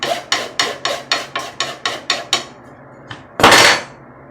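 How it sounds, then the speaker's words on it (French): Metal file scraping across the end of edge banding, about nine quick, even rasping strokes, then a short pause, a light touch and one longer, louder stroke. "Je prends une lime, puis je passe le lime au bout"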